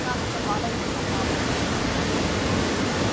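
A river flooded by continuous heavy rain rushes past near Ambuklao, Brgy Ibayo, making a dense, steady roar of churning water throughout.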